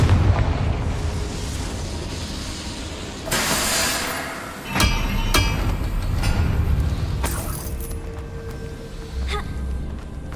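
The Confringo explosion spell in Hogwarts Legacy goes off in several loud booms with bright crackling bursts, set over a heavy, rumbling game soundscape.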